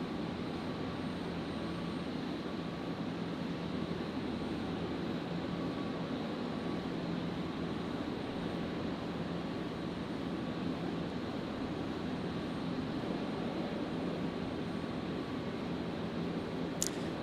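A Qantas airliner takes off from runway 01 right at Brisbane Airport at night, its engines a steady, broad distant roar that holds evenly throughout with no voices.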